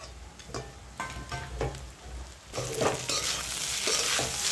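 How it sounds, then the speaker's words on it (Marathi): Poha with salt and fried peanuts is stirred in a pan, with repeated scraping strokes of a spatula over a soft sizzle that grows louder and denser in the second half. "ते मस्त हलवून घ्यायचं, परतून घ्यायचे चांगले पोहे। मस्त असं हलवत राहायचं।"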